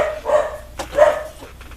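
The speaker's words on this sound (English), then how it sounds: "I don't like when they're barking especially for no reason like this." Dogs bark, two muffled barks about a second apart, heard indoors at moderate distance.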